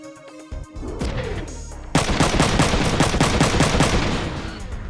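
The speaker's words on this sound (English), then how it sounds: "That was really good shooting" Mechs in the tactical game Front Mission 3 unleash a loud, rapid machine-gun burst, the evenly spaced shots rattling steadily for about three seconds after a short mechanical whir and clank.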